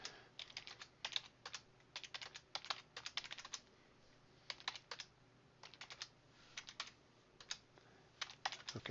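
Numbers being typed into an Excel spreadsheet on a computer keyboard: quiet, close clusters of quick key clicks in short bursts with brief pauses between them, no talking.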